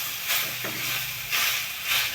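Vegetables with chilli and garlic frying in a pan on a gas stove, a steady soft sizzle with brief swelling hisses and faint scraping of stirring, close by with no talk.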